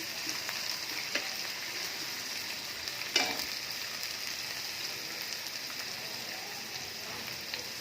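Onion and green chilli fry in a pan for water lily bhaji, a steady close sizzle with a brief stirring scrape partway through, no voices.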